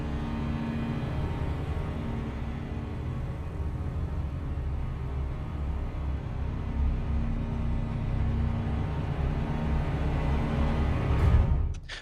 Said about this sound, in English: so I brought back in the Nucleus basses here and combined they sound like this.